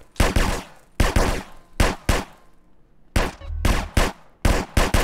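Rapid bursts of AK rifle fire in GTA: San Andreas, several loud close volleys separated by brief pauses, with no talk over them.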